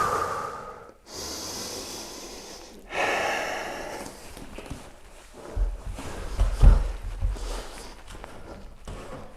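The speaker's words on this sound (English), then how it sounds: "Big breath." Heavy, deep breaths during a beginner handstand wall drill, a few loud inhales and exhales close up with some shuffling thumps of movement.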